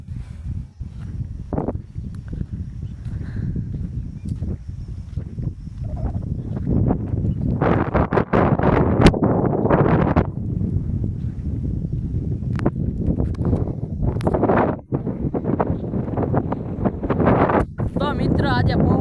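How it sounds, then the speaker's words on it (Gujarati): Strong, gusty wind buffets the microphone over a cotton field, a steady roar with louder surges through the middle and late part, while people talk intermittently in the background. "તો મિત્ર આજે પવન એવો જોવા મજા આવે એવું વાતાવરણ"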